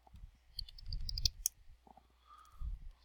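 Rapid clicking of computer keys while typing a short list of fruit words, close and fairly quiet, in brief bursts with short pauses between them.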